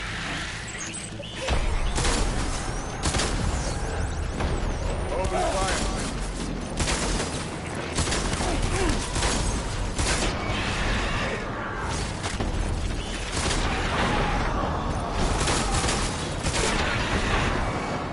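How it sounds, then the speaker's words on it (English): Sustained gunfire in the video game Death Stranding, dense overlapping bursts and rapid volleys running nearly the whole stretch, loud and close, with a clattering, chaotic texture and occasional voices underneath. "Open fire."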